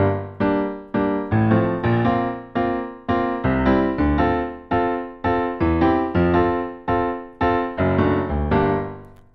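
Piano plays a song with a swung eighth-note groove, its loud chord stabs falling in an uneven long-short lilt and each decaying before the next, with no speech.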